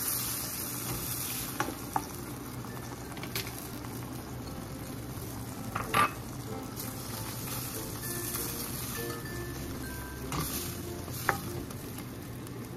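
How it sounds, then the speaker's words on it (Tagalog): Sauce for sautéed shrimp paste (bagoong alamang) bubbles and sizzles steadily in a pan, a constant close hiss with occasional small pops and clinks. "Yan, kumukulo na."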